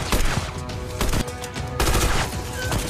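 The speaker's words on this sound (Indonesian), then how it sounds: "Dilempari granat dan tembakan." Gunfire and explosions from a film battle scene with grenades thrown, a dense, loud, continuous barrage of shots and blasts filling the whole stretch with no pause.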